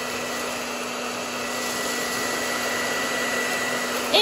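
A hair dryer blowing hot air to shrink plastic wrap on an Easter basket, a steady close whirring drone with a constant tone that runs unbroken throughout.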